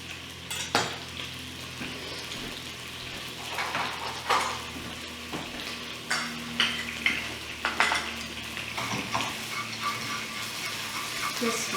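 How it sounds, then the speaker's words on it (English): Garlic and chili sautéing in hot coconut oil, a steady low sizzle with scattered scraping and clinking of a utensil against the pan, fairly close and without speech. "saute this until you can just smell the aromatic of the garlic and the chili"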